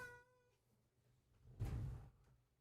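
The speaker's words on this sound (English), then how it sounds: "it's the cat that wants to join us" A cat gives a single clear, drawn-out meow close by, followed a moment later by a brief loud thump.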